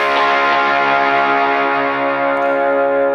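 A sustained electric guitar chord through an SD1-type overdrive rings out thick and loud, slowly decaying without any talking.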